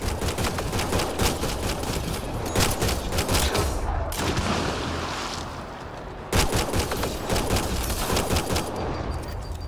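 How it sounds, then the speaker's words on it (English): Gunfire in the video game Mass Effect Andromeda rattles in dense, rapid volleys for nearly ten seconds, loud and continuous with brief lulls around the middle and no clear talk. "Nyan, shoot it!"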